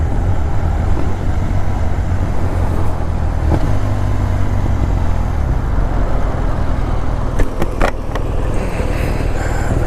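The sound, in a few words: wind noise while riding a motorcycle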